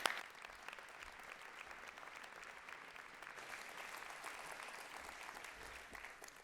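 An audience at a landscape architecture conference plenary session applauds, a steady, fairly faint patter of many hands clapping from a distance.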